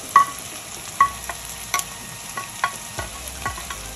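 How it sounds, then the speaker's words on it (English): Onion and garlic fry in a pan for a dhaba-style daal mash, with a steady sizzle punctuated by regular clinks and scrapes of stirring. "That's my onion going in. Then my garlic."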